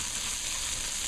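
Tomato paste frying in a beef stew pot gives a steady, even sizzle throughout, loud and close, with no voices over it.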